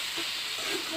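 Hot oil on a clay stove hisses in a steady, faint, continuous sizzle as helencha greens are added.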